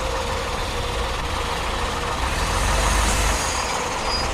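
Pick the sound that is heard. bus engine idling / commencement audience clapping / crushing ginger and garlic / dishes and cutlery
bus engine idling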